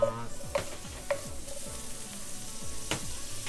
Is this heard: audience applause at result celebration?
no